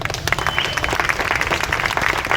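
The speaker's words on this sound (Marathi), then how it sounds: "तर मी तुम्हा सर्वांना विनंती करतो, जोरदार टाळ्या व्हायला पाहिजे." Audience applause at a memorial day gathering, a brief burst of dense clapping from a crowd.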